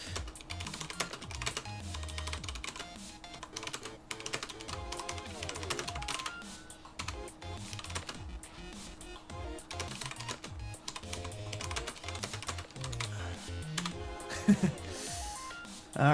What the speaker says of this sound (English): Let me just type this real quick.